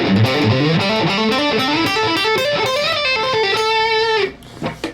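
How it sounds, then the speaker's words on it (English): A fast electric guitar pentatonic lick, hybrid picked, climbs quickly through the scale in a sequence of rapid, even notes, bright and slightly overdriven, ending on a held note. "all I was doing there is ascending the scale in a sequence and using hybrid picking"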